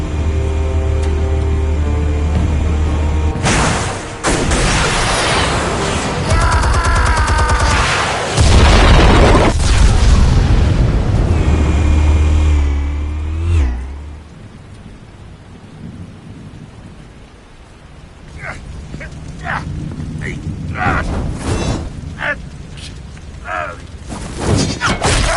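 Explosions in the Batman: Telltale Series video game: loud, close booming blasts with rumbling debris and crackling for several seconds, fading into quieter scattered impacts and clatter.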